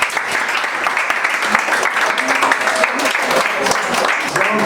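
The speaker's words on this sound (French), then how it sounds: "Applaudissez le prof." Students clap for their teacher in a classroom, a dense, steady patter of many hands held at the same level for several seconds without pause.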